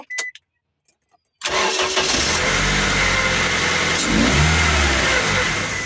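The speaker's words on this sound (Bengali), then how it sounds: "আপনারা দেখতেই পাচ্ছেন যে বারবার আমি সেলফ মারছি বারবারই ইঞ্জিনটি স্টার্ট হচ্ছে" A CNG-converted Toyota HiAce microbus engine cranks briefly and catches after a short silence, then settles into a loud, steady idle with a slight rise in revs, recorded close by.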